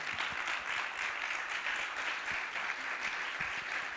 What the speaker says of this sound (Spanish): pediría un aplauso para ellos tres